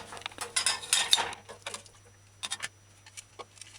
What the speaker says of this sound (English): I can't find my grinder, so I'm just using this knife to grind.